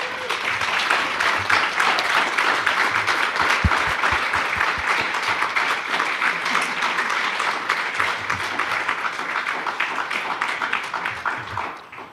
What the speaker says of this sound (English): show your approval and your appreciation to your candidates with a round of applause